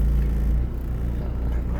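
A car drives at night with a steady low engine rumble and road noise filling the cabin, continuous and close, with no voice heard.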